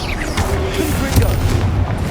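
Confringo fire spell blasts in Hogwarts Legacy combat, a dense run of booming game explosions layered over a continuous low rumble and crackle, loud and close, with no gaps in the din.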